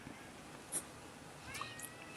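A cat meows in a quiet indoor room, one faint drawn-out call near the end after a brief soft noise, with no talk.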